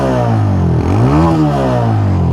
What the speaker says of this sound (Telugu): ఒకసారి ఎగ్జాస్ట్ సౌండ్ వినిపిస్తా చూడండి